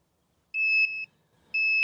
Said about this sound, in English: First it'll beep twice like that, and then it'll begin a series of continuous beeps.